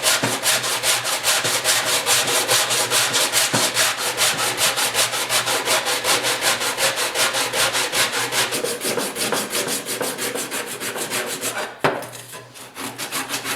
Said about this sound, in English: Maybe I'll hit her with some 40 grit real quick.